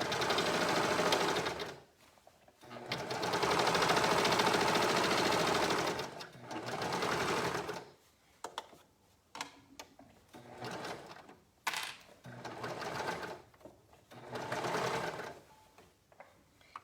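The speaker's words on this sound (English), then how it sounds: "I like to first sew it on the serger to just help finish those edges" A serger overlocks and finishes the raw edges of women's pajama shorts, running in loud sustained bursts of rapid stitching separated by short pauses, with shorter stop-start runs toward the end.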